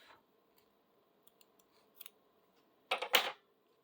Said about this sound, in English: Then cut your ends off.